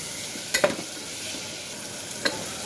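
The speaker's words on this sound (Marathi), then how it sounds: "थोडंसं टोमॅटो केल्यानंतर मिक्स करून घेऊ" Tomatoes are stirred into spiced rice frying in a pan: a constant close sizzle broken by two or three brief scraping stirs.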